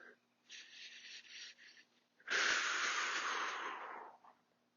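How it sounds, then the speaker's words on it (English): Deep breaths during a tai chi session: a softer inhale, then a long, loud, hissing exhale close to the microphone, with no speech. "We'll take some good deep breaths."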